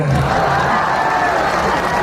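A live audience at a stage comedy show clapping, a dense burst of crowd applause that stays loud and steady for about two seconds.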